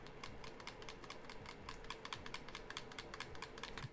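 Rapid, clicky presses on the buttons of an Anbernic RG35XX SP handheld game console, a steady stream of sharp, fairly loud taps close up with no talking.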